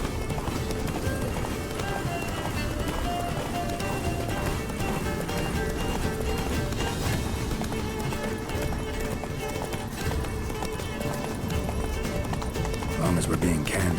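Roach, a horse in The Witcher 3, gallops with a steady run of rapid hoofbeats that carries on for the whole stretch. A dense music bed and voices play over the hooves.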